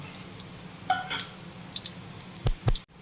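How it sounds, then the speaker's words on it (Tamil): Mustard seeds splutter in hot oil while tempering a fish curry, giving a handful of sharp, scattered pops and crackles over a quiet background, close up. "கடுகு நல்லா பொறிஞ்சு வந்துருச்சு"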